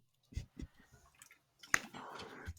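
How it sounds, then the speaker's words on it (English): A person chewing food close to the microphone, with a few moist bites and mouth clicks followed by a denser stretch of squishy chewing, and no speech. "Sorry, I'm chewing."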